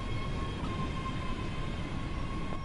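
A train departs in the Train Sim World game at night, with a steady low rumbling engine drone and faint tonal hum holding constant, no speech.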